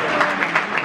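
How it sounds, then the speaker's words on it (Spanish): Applause fills a festival preview screening of Los Protegidos A.D.N., a dense, even wash of clapping from an audience, steady and fairly loud through the brief moment. "Le mandamos un aplauso"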